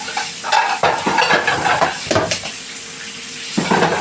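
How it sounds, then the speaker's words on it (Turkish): Dishes and cutlery clink and clatter close by as a dishwasher is emptied, with a steady run of sharp knocks and rattles and no talking. "Makineyi boşaltıyorum"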